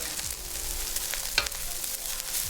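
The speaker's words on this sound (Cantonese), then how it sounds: "First, we'll spread out the rice and let it pan fry for 30 seconds." Hot rice spread out and pan frying in a wok for Cantonese-style pineapple fried rice, a steady close sizzle with a brief scrape or clink partway through.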